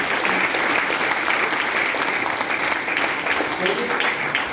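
A seminar audience at an Asclepius Wellness closing event breaks into loud, dense applause, steady clapping that fills the room for several seconds.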